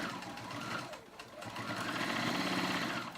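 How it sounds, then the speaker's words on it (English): A sewing machine stitches a pocket onto the edge of boys' fly pants, running in a close, rapid mechanical whir with a brief pause in the middle. "I'm gonna stitch them on to the edge"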